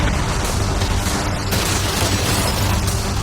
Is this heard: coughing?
no